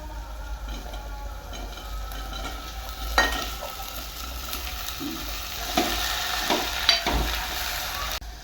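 Okra fries with onions, curry leaves, salt and turmeric in a pan, making a constant frying hiss over a low hum, with occasional louder spatula scrapes and taps.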